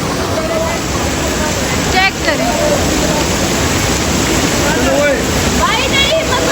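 Umbrella Waterfall on a mountain hike, a loud constant roar of rushing water filling the scene, with people talking and calling out over it throughout.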